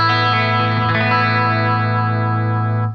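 A sustained strummed guitar chord rings through the chorus effect of a Fender Champion 50XL amp, a shimmering doubled tone that holds steady and cuts off near the end, no speech.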